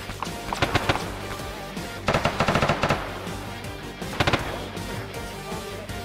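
Video game gunfire in a military operation, bursts of rapid automatic shots in clustered volleys with short gaps, loud and close over a low background rumble, no talk.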